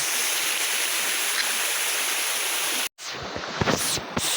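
Steady rushing roar of Anahaw Falls, a tall waterfall, loud and continuous, briefly cut off then resuming with some splashing.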